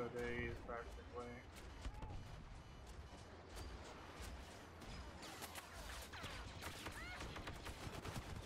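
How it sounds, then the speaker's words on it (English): Blaster and gunfire crackle through a Star Wars Battlefront multiplayer match, with rapid bursts and scattered shots over battle rumble and explosions, steady and loud, while a player talks over the action. "Where are those shots coming from, for fuck's sake?"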